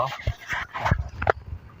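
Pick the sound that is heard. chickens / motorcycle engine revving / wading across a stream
chickens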